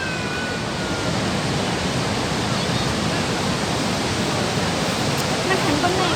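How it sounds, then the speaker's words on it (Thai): A waterfall in Thailand pours as a loud, steady broadband rush of falling water, close and continuous throughout. "น้ำตกครับ"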